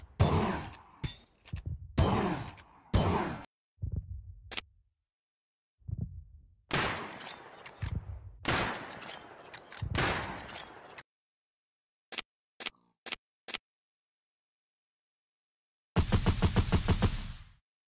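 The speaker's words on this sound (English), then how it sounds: "the assault rifle will take more than one magazine to demolish the Ravager" Assault rifle fire from a Minecraft gun mod, heard as several loud broadband bursts and separate sharp shots with silent gaps between them, ending in a dense rapid automatic volley.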